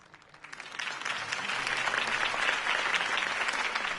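A crowd applauds after a campaign speech in a Batman film, the clapping swelling in from quiet to a steady, full ovation that holds to the end with no talk.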